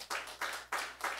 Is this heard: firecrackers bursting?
no